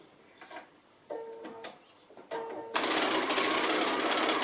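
A sewing machine stitches small fabric pieces in quick, quiet mechanical bursts, starting and stopping twice before settling into a steady, louder run of rapid needle clatter; close and alone, with no speech.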